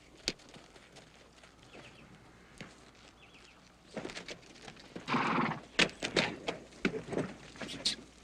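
Horses at a watering stop in a 1988 Western, with scattered hoof clops and shuffling at moderate distance followed by louder stamping and movement near the end, under occasional speech.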